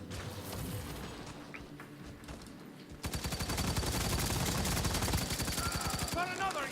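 Rapid automatic gunfire from the video game Firefall starts partway through and continues as a loud, dense stream of shots, after quieter game ambience.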